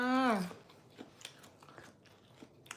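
Crunchy bites and chewing of Thai som tam, a spicy green papaya salad, close to the mic: irregular crisp crunches after a short spoken phrase at the start.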